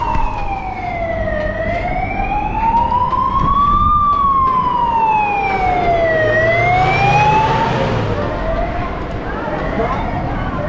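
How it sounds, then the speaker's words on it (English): An ambulance or police car siren wails loudly behind a bicycle in Madrid, its pitch sweeping slowly up and down in long cycles over steady street and traffic noise. "I think there's an ambulance or a police car behind me."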